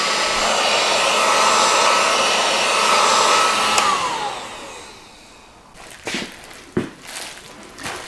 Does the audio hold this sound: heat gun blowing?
yes